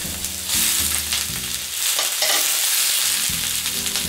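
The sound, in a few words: beef with pepper and mushrooms sautéing on hot plate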